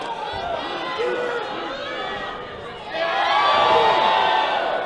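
A wrestling crowd at a museum event cheers and shouts, a dense roar of voices that swells louder partway through, with a commentator talking over it.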